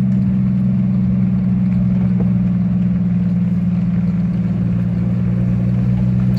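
A carbureted Jeep engine idles steadily with a low, even rumble, heard up close and loud throughout with no talk.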